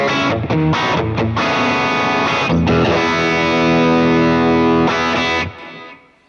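An electric guitar with single-coil pickups plays through a Quad Cortex with a subtle octaver, giving a thick, distorted tone in sustained chords and notes that fade out at the end, loud and without talk.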